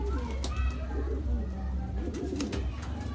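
Green Madrasi pigeons in Janakpuri, Delhi, coo softly in low, repeated phrases, with several calls overlapping against a steady low hum.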